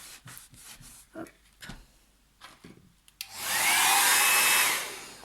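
Hair dryer blowing cold air over a painting to dry it, switching on after a few soft handling sounds and running loud and steady for about two seconds before cutting off.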